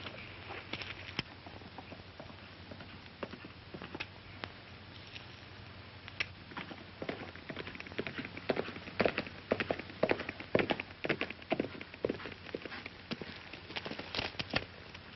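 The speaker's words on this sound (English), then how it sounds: "I hear a horse coming." Irregular hoof clops patter at moderate distance, growing slightly louder and denser over the span, with no voices.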